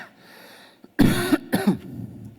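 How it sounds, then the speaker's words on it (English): A speaker coughs partway through a conference talk on quantum computing, giving a cluster of two or three loud, harsh coughs after a quiet pause, followed by a short throat-clearing rasp before the room settles. "I'm going to cough, excuse me."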